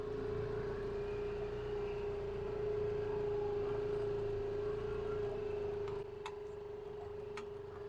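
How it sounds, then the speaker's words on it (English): A side-by-side utility vehicle's engine drones steadily during a farm ride, a low, even hum with a faint rattle and a few small knocks near the end. "Let's go jump on the side-by-side. Take you guys for a ride."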